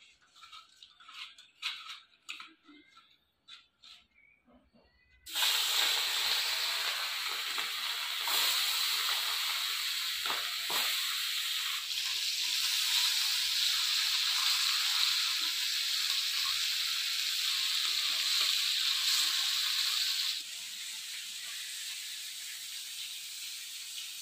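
Hilsa fish coated in salt and turmeric frying in hot oil in a kadai. A few quiet clinks come first, then a loud, steady hiss of sizzling oil starts abruptly and holds for a long stretch before easing slightly.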